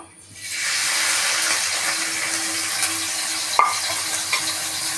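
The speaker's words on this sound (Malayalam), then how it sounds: "ഇപ്പോൾ നമ്മുടെ വെളിച്ചെണ്ണ ചൂടായി വന്നിട്ടുണ്ട്. അതിൻ്റെ അധികം നമ്മൾ ഈ ചതച്ച് വെച്ച ഈ സാധനം അങ്ങോട്ട് കൊടുക്കുക." Crushed spices hit hot coconut oil in a pan for a pork fry and sizzle steadily and loudly, with a faint stirring clink midway.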